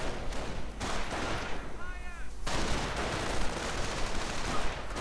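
Gunfire from riflemen armed with BAR rifles in a World War II strategy game, a dense busy battle mix of shots with talk over it.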